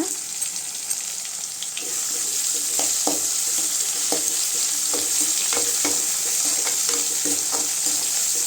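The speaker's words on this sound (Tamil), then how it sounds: "தக்காளி 1 நிமிஷம் நல்லா வதங்கட்டுங்க." Tomatoes sauté in a pan with onions for wheat rava kichadi. A quieter start gives way after about two seconds to a steady close sizzle, with repeated spoon scrapes and taps as the mixture is stirred, and no speech.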